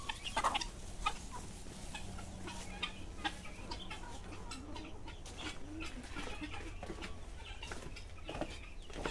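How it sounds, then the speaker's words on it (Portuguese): Chickens on a farm cluck and murmur at close range while they feed on corn, with soft overlapping calls and scattered scratching and pecking taps throughout. "Galinhada gosta do milho."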